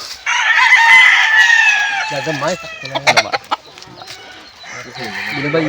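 A rooster crows loudly and chickens cluck close by, with someone speaking briefly over the farmyard noise.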